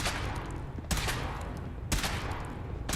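Weapon test firing in Fallout 4: two sharp, loud blasts about a second apart stand out over a dense, steady roar of game noise, with no talking.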